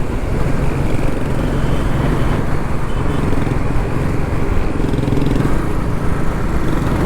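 Heavy traffic on a large, newly entered highway with motorcycles, a dense continuous engine and road roar heard from close by for the whole stretch.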